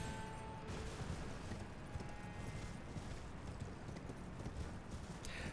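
Steady clip-clop of horse hooves trotting in the video game Elden Ring, a continuous even rhythm at moderate distance with no talking.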